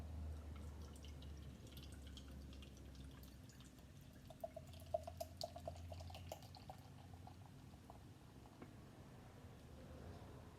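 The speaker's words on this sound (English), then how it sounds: "Pour out into the Spiegelau lager glass that I've just given a quick rinse." Obolon Premium Ukrainian beer poured from the bottle into a rinsed Spiegelau lager glass, a faint gurgling trickle and dripping indoors, quiet and brief in the middle of a low room hum.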